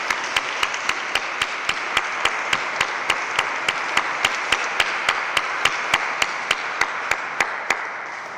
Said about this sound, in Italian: Un applauso al maestro Riccardo Cossi che ci ha accompagnato.